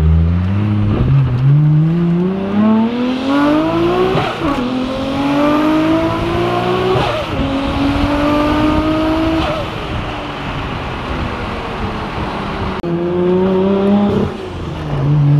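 A 500 hp Nissan Skyline R34 GTR V-spec with HKS Super Sequential blow-off valve pulls hard on Florida streets, its loud engine climbing through repeated gear shifts with turbo whine, heard close from inside the car.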